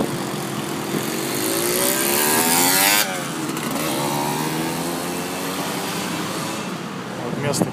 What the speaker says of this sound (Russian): Байкер пронесся.